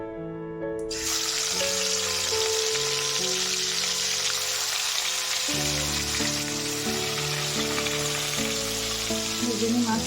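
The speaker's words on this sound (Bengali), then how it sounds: "একটু মাছটা ভাজা বানাবো" Fish frying in a pan gives a loud, steady hiss of sizzling oil throughout, with a faint background hum and tones and no clear talk.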